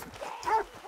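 A dog in the Western open-world game Red Dead Redemption 2 gives a short, close bark or yelp amid other low game noise.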